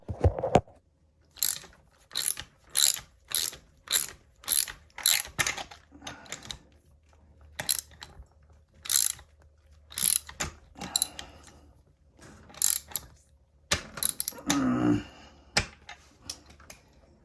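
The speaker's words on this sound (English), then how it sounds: "You're going to have to crank her in there." A ratchet wrench cranks a part into place during a 2000 Dodge Neon engine rebuild: close, loud bursts of rapid clicking in rhythmic strokes, separated by short pauses.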